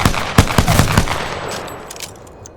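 P2020 pistol fired in the video game Apex Legends, a quick string of sharp close shots in the first second, then a fading tail with a few lighter clicks.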